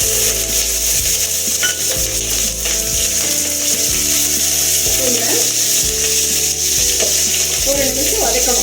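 Green chillies frying in a pan for goat blood fry, a loud continuous sizzle close up with regular scraping stir strokes repeating about every second.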